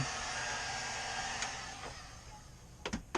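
A heat gun warms plastic tubing on a boat, giving a steady airy blowing hiss that ends in a few short clicks and knocks near the close.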